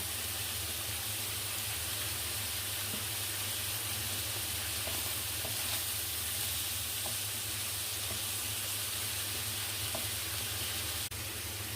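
Scallops frying in a hot pan with a little butter added, giving a steady, even sizzle and hiss that runs unbroken at moderate level, with a few faint clicks and no voices.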